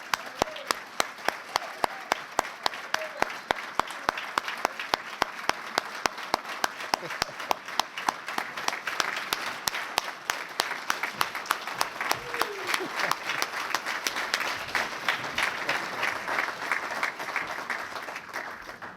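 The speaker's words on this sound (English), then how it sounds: "Let's give a round of applause to Larry Callis." A round of applause at a Cowboy Hall of Fame ceremony at a Black Cowboy Museum, steady sustained clapping from the audience lasting the whole stretch with sharp individual claps standing out near the front, faint voices beneath.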